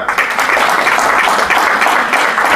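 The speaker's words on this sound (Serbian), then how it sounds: "Još jednom gromoglasnim aplauzom pozdravimo večerašnju najženu Kiju Kocka." Dense, steady applause from an audience at an evening stage event, sustained at an even loudness throughout without a break.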